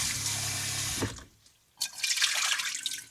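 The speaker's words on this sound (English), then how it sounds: "we can take our carrot and daikon mixture, rinse it off with some water" Tap water pours steadily, rinsing a shredded carrot and daikon mixture in a sink at a wilderness campsite; a brief pause interrupts the flow before it resumes, close and fairly loud.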